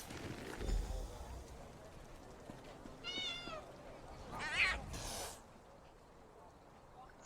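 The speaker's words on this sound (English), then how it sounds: "Star is a cat." A cat meows in The Elder Scrolls Online, a few short, rising cries close by, partly under a person talking and game background sound.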